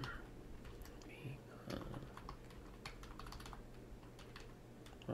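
Typing on a computer keyboard during setup of the Fat-Free Framework 3.7 PHP install, a run of quiet irregular key clicks over steady low room hum, with faint speech in the background.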